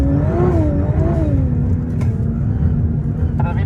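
A Nissan R35 GT-R on an ice rally course revs hard, its engine note climbing and falling in smooth sweeps, then settling into a steady loud drone. A voice speaks faintly under the engine.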